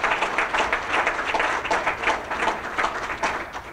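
An audience applauds at a school campus opening ceremony for a Planning Commission chairman and water district board member, a steady, dense wash of many hands clapping at moderate loudness for several seconds.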